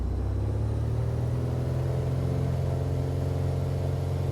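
A Piper Arrow III engine in a flight simulator, throttled up on the runway, giving a steady, close droning hum that swells slightly as power builds, with no voices.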